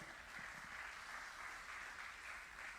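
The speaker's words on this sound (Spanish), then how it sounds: "Dale un aplauso al Señor" A church congregation applauding during a Sunday service, a dense and steady wash of clapping that stays even and fairly faint for a few seconds with no clear voices.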